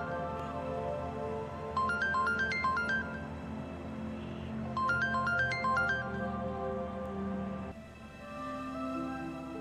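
A phone rings unanswered in a Pakistani TV drama, two bursts of a repeating electronic ringtone melody over a low background hum, then stops.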